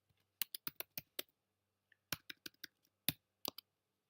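Keys clacking on a computer keyboard as information is entered, two short bursts of crisp, close clicks separated by a brief pause, with no voices.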